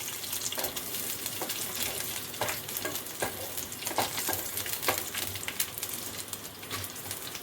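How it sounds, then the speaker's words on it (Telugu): Green chillies frying in hot oil in a pan, a steady close sizzle with repeated stirring scrapes at a regular rhythm. "ఇందులో పచ్చిమిరపకాయలు వేసుకోవాలండి. నూనెలో బాగా వేయించుకోవాలి."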